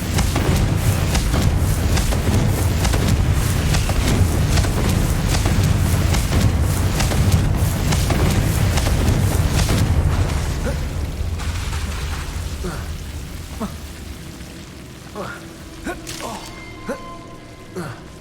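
Confringo explosion spell cast in Hogwarts Legacy, heard as a dense, loud rumbling blast that fills the first ten seconds, then fades into quieter scattered pops and crackles.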